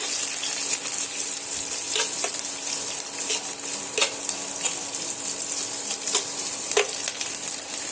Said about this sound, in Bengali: পেঁয়াজগুলো দিয়ে একটু লালচে রং ধরিয়ে ভেজে নেবো